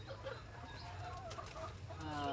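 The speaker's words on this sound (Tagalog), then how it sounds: "Nandito tayo ngayon sa aking manukan." Chickens cluck softly in a backyard coop, a few quiet overlapping clucks and murmurs at close range, faint overall.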